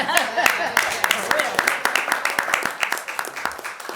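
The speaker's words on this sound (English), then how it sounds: "Clap again." Scattered hand clapping from a small audience at a public library board meeting, sharp uneven claps over a room murmur that thins out toward the end.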